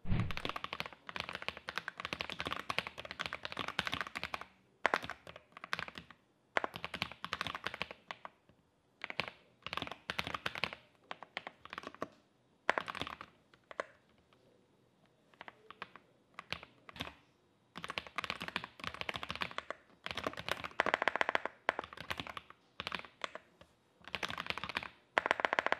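Close, fast typing on a mechanical keyboard with side-printed keycaps and soft tofu-style switches, dense runs of muted clacks broken by brief pauses, no voices.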